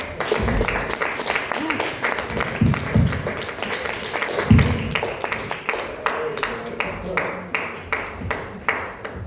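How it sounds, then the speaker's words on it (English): Comedy club audience at the Helium in St. Louis applauding a comedian after his set, a dense, steady wash of clapping lasting several seconds with scattered sharp claps standing out. "Give Russell a round of applause, everybody."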